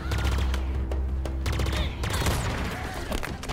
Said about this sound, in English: What gun is that, dude? Is that a banished gun?